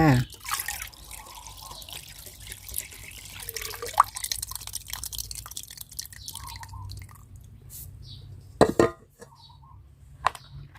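Strained liquid fertilizer made from spoiled rice is poured into a container for plants, giving drips and trickling water with a few splashes, close and fairly quiet, with no talk.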